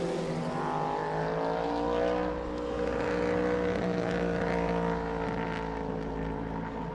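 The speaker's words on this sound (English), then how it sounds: "that sounds like a V8" A Wolf race car's V8 engine on the Montmeló circuit, a sustained droning roar with steady harmonic tones, heard from a distance and holding fairly constant with faint wind noise.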